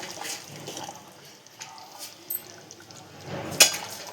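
Water poured into chicken curry cooking in a pot to make gravy, faint splashes and drips in a quiet kitchen, with a brighter splash toward the end.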